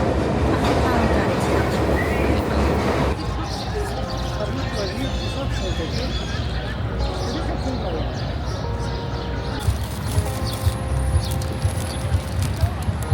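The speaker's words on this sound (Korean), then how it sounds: "30만원 뜯기고 타는 뉴욕 지하철." A New York subway train rides along with a steady loud rumble, rattling wheels and screeching metal tones, voices faintly mixed into the noisy carriage throughout.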